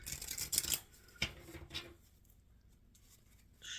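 Tarot cards are shuffled up close in a few quick riffling bursts, then quiet, with another short shuffle at the end.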